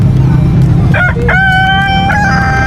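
A Rhode Island Red rooster crows loudly over a busy, noisy livestock market in Lingayen, Pangasinan, its drawn-out call rising and then holding a long tone.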